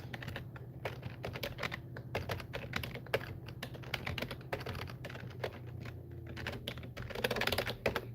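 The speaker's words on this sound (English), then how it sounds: "Let me type a random email address." Someone types an email address on a computer keyboard in a quick, continuous patter of key clicks, close and clear over a faint steady hum.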